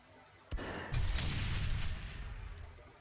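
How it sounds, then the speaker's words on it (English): A single gunshot strikes a barrel in the turn-based tactics game Dreadlands: a sharp crack at half a second, then a heavier booming blast with a long rumbling tail that fades out. No one talks over it. "Let's shoot at the barrel."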